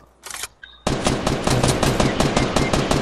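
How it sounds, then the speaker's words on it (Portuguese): Gunfire in the Fortnite video game: a couple of short shots, then a loud rapid burst of automatic fire that runs to the end. "eu tô atirando o cara e não pega, velho"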